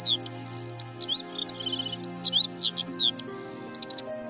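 Parrots in a forest: quick, high whistled chirps and tweets in rapid bursts over a steady, tonal background hum, bright and fairly close, with no talk.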